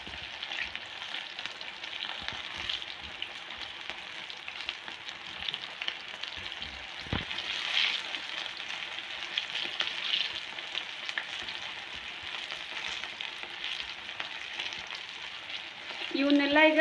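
Cut mirchi, sliced green chillies in batter, deep frying in oil on a low flame, a steady close bubbling sizzle that holds for the whole stretch with a brief clatter near the start.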